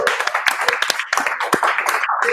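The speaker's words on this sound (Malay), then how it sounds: "Saya nak tepuk tim, tepuk!" Audience clapping on a talk show set, a sparse, uneven patter of hands with a few sharp claps rising over a background of mixed voices and crowd noise.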